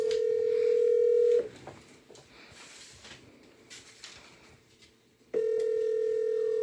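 A steady telephone tone sounds as a radio station auto-dials a call, breaks off into a few seconds of quiet line noise and faint clicks, then the tone returns.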